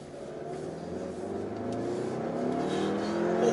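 A Volkswagen Arteon's turbocharged four-cylinder engine accelerates with a steadily rising drone, heard from inside the car and growing gradually louder.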